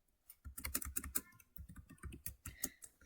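Someone types a file name on a computer keyboard, a quick run of soft, close key clicks in two short bursts with a brief pause between, quiet and with no voice.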